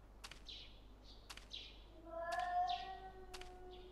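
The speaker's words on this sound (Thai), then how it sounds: "ทุกคนฟังครับเสียงแมว" Cat ghost meowing in the horror video game Tsugunohi: four drawn-out, eerie meows at a regular pace, each preceded by a sharp snap, over a faint low hum, with no voices.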